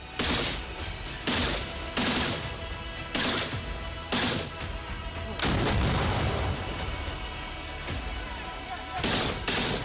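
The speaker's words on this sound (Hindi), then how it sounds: "पूरा इलाका धमाके की आवाज से थर्रा उठा।" Repeated heavy booms of artillery and explosions in the Russia-Ukraine conflict, roughly every second or two over a constant roar of distant fire, with a louder rumbling blast midway.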